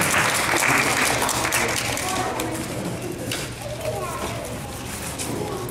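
Audience applause at a Tuskegee parks and recreation awards ceremony, a steady broadband clapping wash that holds for several seconds and tapers slightly, with children's voices and crowd chatter mixed in.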